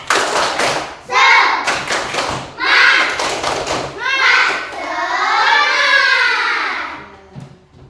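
Indonesian students performing a rhythmic spirit clap at school, loud sharp claps in quick patterned bursts alternating with chanting voices, close and bright.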